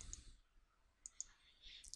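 A computer mouse clicks a few times while ArchiCAD architectural software is in use: sharp, faint, isolated ticks spread across a quiet background.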